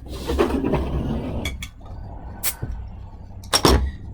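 A homebrewed Polish-Lithuanian farmhouse ale bottle is opened, with a few sharp glassy clinks and metallic clicks from the cap, then a short hiss and rush as the overcarbonated beer starts to foam, close and fairly quiet.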